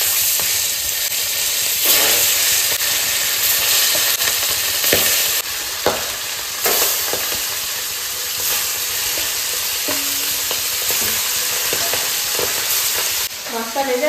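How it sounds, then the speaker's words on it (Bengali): Fish fries in a pan with a loud, steady sizzle and hiss that runs throughout, broken by occasional stirring scrapes and brief clinks. "বাকি মাছগুলো ভেজে নেব।"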